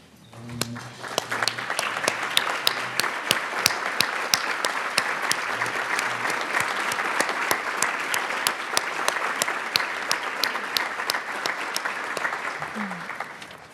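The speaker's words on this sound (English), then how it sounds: "please stand so we can give you a round of applause" Applause at a scholarship luncheon for standing Finn Society members at St. Thomas, a sustained crowd of clapping hands with sharp individual claps popping through, steady for over ten seconds before tapering as a voice returns.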